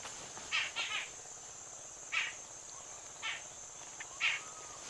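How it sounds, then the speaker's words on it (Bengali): Birds calling at a riverside char village, with several short chirping bursts spaced irregularly over a faint, steady insect drone and quiet outdoor background. "পাখির আওয়াজ শুনতে পাওয়া যাচ্ছে।"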